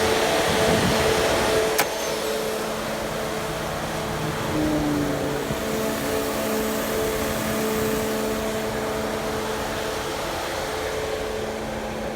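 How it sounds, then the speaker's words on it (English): The auxiliary radiator cooling fans of a Mercedes W124 with an M104 or M103 engine run after an uphill drive, giving a steady, fairly loud whirring hum with a faint tonal whine and no talking. "The aux fans are on."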